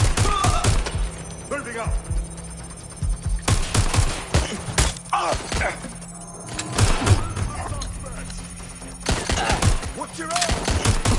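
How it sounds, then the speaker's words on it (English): Loud close bursts of automatic gunfire from enemies shooting in the video game Watch Dogs Legion, rapid volleys with short pauses between them, and a voice calls out over the shooting. "They're shooting at us!"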